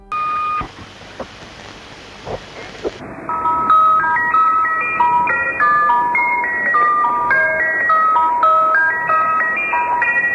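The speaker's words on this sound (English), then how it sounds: "It's like creepy ice cream music followed by a young girl speaking in German." A short burst of noisy static gives way to a tinny, repeating electronic melody of beeping tones from a shortwave numbers station, thin and distant like a radio broadcast.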